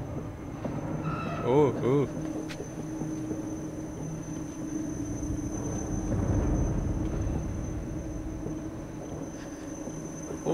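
Trains rumble past in the puzzle-platformer video game INSIDE, a low, steady mechanical roar that swells in the middle, with a brief exclamation from a player over it.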